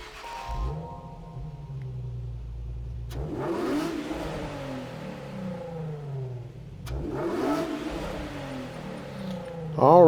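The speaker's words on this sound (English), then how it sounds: "we'll listen to the startup sound" A 2008 Nissan Fairlady Z (Z34) in Gran Turismo 7 cranks and starts, then revs twice with rising and falling engine tone between idle stretches, close and clear.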